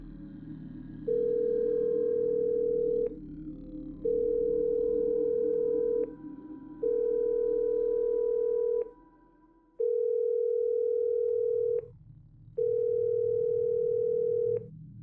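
A telephone dial tone from a horror radio drama rings out in steady, evenly spaced beeps, each about two seconds long with short gaps. The pulses are loud and clean over a faint low hum, with no one talking.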